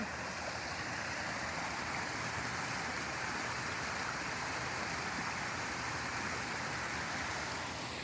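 Lake water rushes steadily outdoors on a sunny day, a dense continuous wash like a stream or small waterfall, loud and unbroken with no voices over it.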